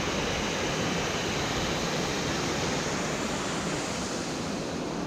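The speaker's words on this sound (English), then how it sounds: "Another waterfall." A waterfall in Welsh countryside near Capel Curig, beside a pine forest and a lake, pours as a steady, loud broadband rush with no talking over it.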